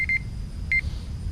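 A small electronic timer gives a quick pair of high, thin beeps, then a single beep a moment later, all fairly clear over a low background hum.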